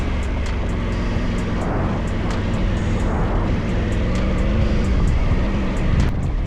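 A Triumph Tiger 900 Rally Pro 2025 motorcycle rides off road in snow, its engine a loud continuous drone with ticking high clicks, close and steady throughout.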